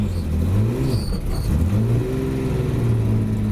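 A 1979 Datsun 280Z, a road-registered track car, runs with a steady, loud mid-range engine note that rises and dips in pitch through the clip, with no talk.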